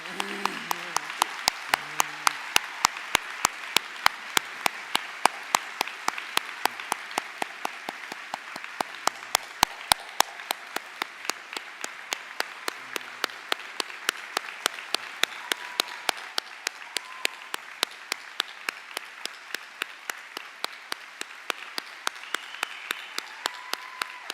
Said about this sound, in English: I think we can applaud that.